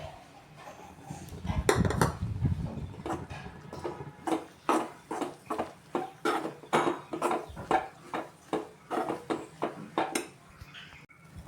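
Rice flour and jaggery stirred in a pan for maavilakku, a spoon scraping and knocking in a steady run of sharp, close clicks, louder and busier at the start, with no talk.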